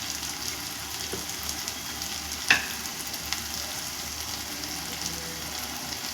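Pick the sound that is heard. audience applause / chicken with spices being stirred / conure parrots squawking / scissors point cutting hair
chicken with spices being stirred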